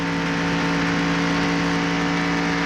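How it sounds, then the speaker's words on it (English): A stock race car engine at the 1995 Pepsi 400 drones loud and steady, a dense buzzing roar held at an even pitch throughout with no voices over it. "We can hear the engine"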